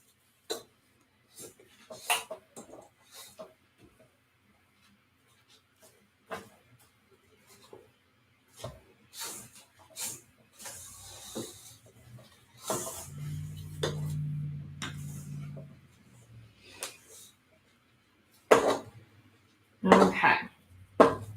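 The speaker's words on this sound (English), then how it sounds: "I'm actually going to scrape my bowl down" A spatula scrapes down the sides of a mixing bowl of sugar cookie dough, with scattered clinks and taps and a short steady scraping stretch, close and fairly quiet.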